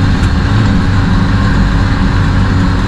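An all-terrain vehicle's engine labours in emergency mode while driving through the taiga. It makes a loud, continuous low-pitched drone that is close and unbroken, with no voices.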